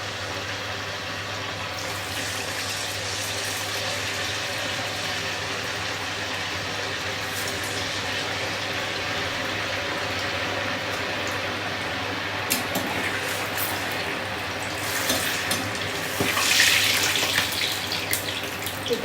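Dahi vada frying in hot oil, a steady dense sizzle and crackle that runs unbroken and fairly loud throughout, with a slight rise in bubbling near the end.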